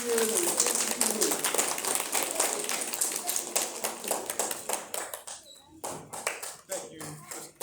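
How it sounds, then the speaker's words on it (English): Audience applause for a lecturer at a life-prep school talk, a burst of many hands clapping that thins out into scattered individual claps toward the end, with speech mixed in. "Let's give a big round of applause for Mr. Patrick Range Jr."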